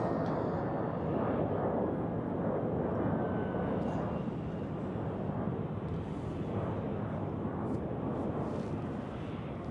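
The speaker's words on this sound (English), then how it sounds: "we have an A321 which has been taxiing to runway 28" An Airbus A321 taxiing toward runway 28 at Zurich Airport, a steady, broad jet-engine roar held at constant loudness from a moderate distance.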